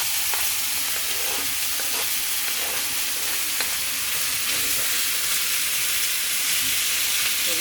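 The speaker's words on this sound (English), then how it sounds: "So I'm gonna go ahead and start browning this." Finely cut, tender meat for street tacos browns in a hot pan, a constant close sizzle broken by scattered scraping and stirring clicks.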